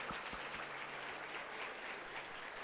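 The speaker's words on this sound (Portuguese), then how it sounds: "Você pode aplaudir a vida deles em nome de Jesus?" Church congregation at a conference applauds, an even, steady wash of many hands clapping throughout, moderately distant and sustained without pauses.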